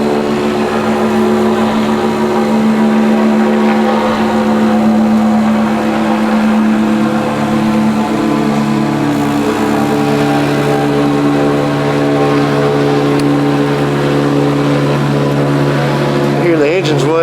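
Big engine droning steadily up close as the vehicle rolls Space Shuttle STS-115 back, with a sustained low hum and harmonic whine, a person talking over it.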